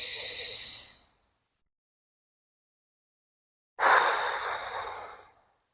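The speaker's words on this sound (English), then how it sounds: "Let's take a deep breath in" Slow, deep meditative breathing: a long airy inhale close to the mic, a few seconds of silence, then a second breath of similar length.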